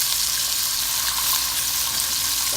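A thick grouper fillet fries in a pan as lemon is added, producing a loud, steady hissing sizzle that fills the moment up close, with no voices.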